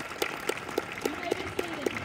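Sparse, steady clapping from an audience at a fifth-grade school moving-up ceremony: about eight evenly spaced claps, moderately close, with no other crowd noise.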